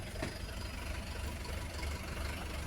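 Lovol 504 tractor engine with air compressor switched off, idling quietly at a tractor yard; a soft, steady low rumble holds evenly throughout without revving.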